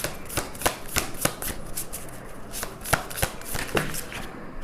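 Tarot cards being shuffled by hand, a steady run of crisp riffling snaps and flicks at close range, soft and without any voices.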